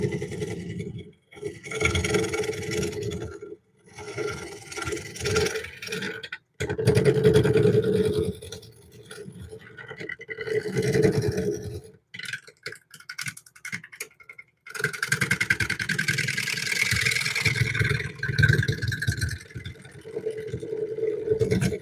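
A wood lathe re-turns a bowl, its tool scraping in bursts of rough, buzzy cutting that start and stop with brief pauses, close and fairly loud, with no talk over it.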